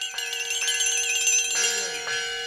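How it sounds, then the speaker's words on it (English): A flexitone, the bendable metallic percussion instrument used for cartoon effects, rings out in wavering, wobbling metallic tones that bend up and down in pitch, with a couple of fresh strikes partway through, close and clear. "First, there's the sound of a flexitone, a bendable metallic percussion instrument often used for cartoon sound effects."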